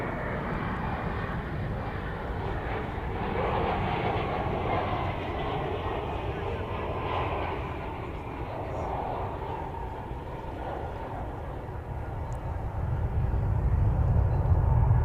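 American Airlines jet departing runway 18 left at DFW airport, a distant steady engine rumble with a low roar swelling louder toward the end, a voice talking faintly over it.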